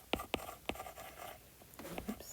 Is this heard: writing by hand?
yes